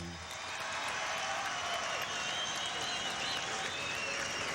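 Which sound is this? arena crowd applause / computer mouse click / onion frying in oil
arena crowd applause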